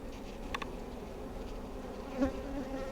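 Honeybees buzz close around an open beehive during inspection, a constant droning hum with a few louder passes near the ear.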